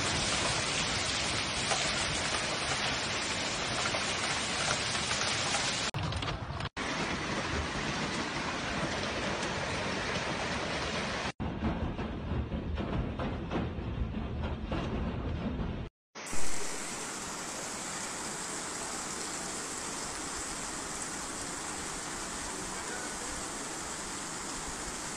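Heavy rain pours during a storm in Germany as a dense, continuous hiss across several abruptly cut segments, loud and steady, with no voices.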